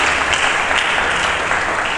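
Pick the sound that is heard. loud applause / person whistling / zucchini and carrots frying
loud applause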